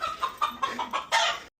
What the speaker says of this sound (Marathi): टॉबी असून घरात एक कोंबडा आणला.